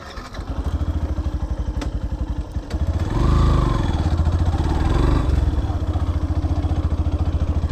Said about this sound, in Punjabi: ਬਹੁਤ ਔਖਾ ਮੋਟਰਸਾਈਕਲ ਚੱਲ ਰਿਹਾ ਇਸ ਟਾਈਮ ਇੱਥੇ